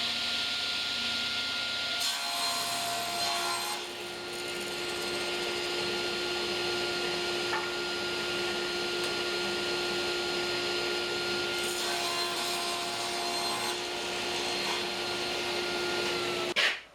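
A saw cuts wood against a miter guide and stop while a cabinet is built; a steady, loud whining roar runs for about seventeen seconds with slight shifts in tone and no talking.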